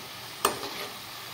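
Potato balls frying in a pan, with a quiet steady sizzle and a single quick clink of a utensil as they are stirred.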